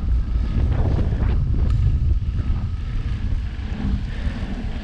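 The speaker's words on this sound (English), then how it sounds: "Riding into the wind now uphill." Steady, heavy wind buffeting the microphone while a cyclist rides uphill straight into a headwind on a chilly November ride, a continuous low roar that rises and falls in gusts without letup.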